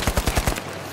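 Automatic weapon fire in The Finals video game, six rapid, evenly spaced shots ringing out close and loud before the burst cuts off into a lingering low hum.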